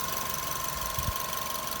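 A 2007 Suzuki Swift 4x4 with the 1.3 engine runs steadily in winter, a faint, even idle hum with a couple of soft low thumps, no voices.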